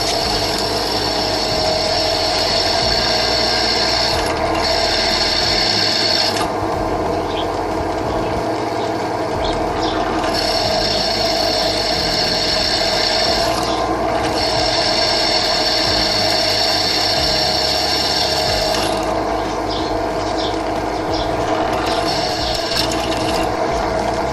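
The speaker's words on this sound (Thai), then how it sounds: "ลองเจาะเหล็กนะครับ เหล็กตัวนี้มีความหนาประ มาณ 6 มิลนะครับ" Steady loud mechanical whine of a small bench drill press at low speed boring into 6 mm steel with lubricating oil, running continuously with faint grinding and periodic shifts in pitch.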